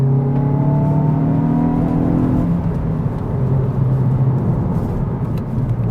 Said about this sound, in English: revving the engine before I shift down a gear